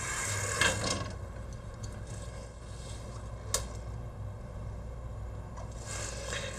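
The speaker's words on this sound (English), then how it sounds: "take the lead screw and insert it very gently through the top hole" A lead screw slid gently down through the carriage of a Qualstar tape library during assembly, giving soft close mechanical scraping and faint rubbing, with a few small clicks, one sharper tick midway, quiet and without speech.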